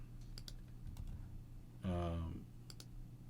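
A computer mouse double-clicks in Logic Pro, with faint paired clicks near the start and end and a brief tonal sound in between.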